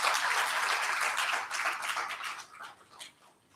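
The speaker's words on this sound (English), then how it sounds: "I think that deserves a clap." Moderate applause from an audience at a bank group's annual results presentation, steady for a couple of seconds before tapering off into fading scattered claps.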